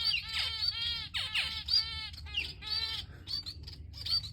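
Finches and diamond doves chirp in a quick, bright series of close tweets and short rising calls, repeated over a low background hum.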